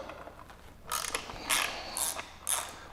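Close ratchet clicks come in four short bursts as a wrench loosens the headlamp bezel on a Harley Softail Breakout, each quick run of clicks separated by a pause, over a quiet background.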